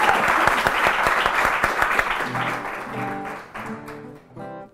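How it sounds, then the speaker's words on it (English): An audience applauds at a live music show in a hotel, with dense, close clapping that thins out toward the end as a few musical tones begin underneath. "Give him a big round of applause."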